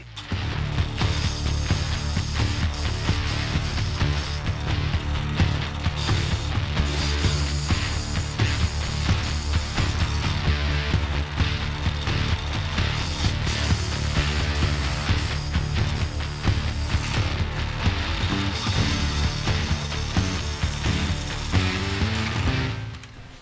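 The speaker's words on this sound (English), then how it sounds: "I've got my Forstner bit in there" A drill press boring into wood with a Forstner bit for a scratch-built guitar: a loud, continuous mechanical whir and grinding with rattling cutter noise, sustained steadily for over twenty seconds with no talking.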